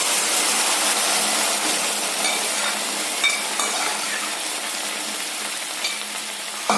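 A steady, dense sizzle of onions and cooked chana dal frying in a pan, continuous and close, with faint scraping of stirring and no voices.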